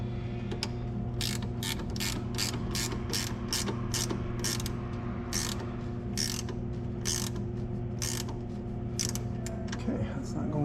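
A ratchet wrench with a 1/2 inch socket tightens a battery mount in a Toyota Tacoma, giving repeated bursts of quick clicking strokes with short pauses between, close and crisp over a steady background hum.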